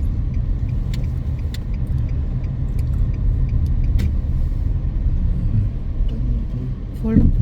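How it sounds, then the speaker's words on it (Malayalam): A taxi car rolls into a crowded building parking lot with a steady low engine rumble and faint clicks, and a brief voice near the end. "വണ്ടി ടാക്സി വരുന്നു"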